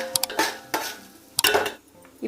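Whole spices, cumin and bay leaves get stirred in oil in a pot for biryani, a few sharp scraping clinks of a metal spoon against the pan with brief gaps between strokes.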